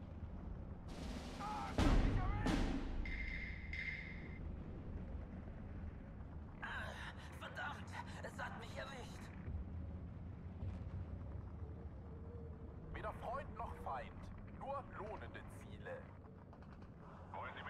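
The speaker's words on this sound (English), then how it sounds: "May as well use our artillery." Heavy 220mm artillery guns firing in the Steel Division 2 war game, a loud booming report near the start followed by scattered distant blasts and crackling impacts under a low rumble, with someone speaking at points.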